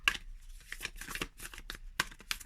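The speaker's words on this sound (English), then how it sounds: "So I riffle shuffled" A deck of oracle cards is riffle shuffled up close, giving quick bursts of fluttering, snapping card noise separated by short pauses.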